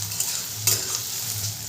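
Onions for alu posto sizzle steadily in a hot pan while being stirred, with scraping strokes of the spatula breaking through the frying noise close by.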